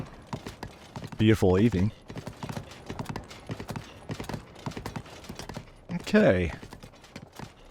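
Horse hooves clip-clop steadily through a ride in Zelda: Tears of the Kingdom, heading up into the Eldin region toward Goron City, with two louder bursts of horse snorts and whinnies and someone talking briefly over the hoofbeats.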